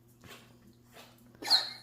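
Dogs give a few short, faint barks with brief gaps between them; the last bark is louder and sharper, over a low background hum.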